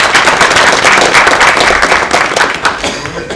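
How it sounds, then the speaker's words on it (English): Audience applause after a technology demo at a tech conference presentation, dense steady clapping from many hands filling the room, loud and sustained throughout before tapering slightly at the end. "round of applause for this demo"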